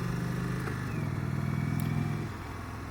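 A 2020 Indian Chief Vintage motorcycle engine rumbles steadily and close by, then eases slightly lower toward the end.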